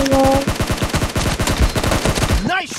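Rapid automatic gunfire in the mobile battle royale PUBG Mobile, a fast burst of loud, evenly spaced shots lasting over two seconds, then a short whooshing effect at the end.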